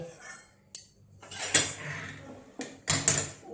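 Dishes and cutlery clink in a kitchen as curry is served into a bowl, several separate sharp clatters with quieter gaps between them.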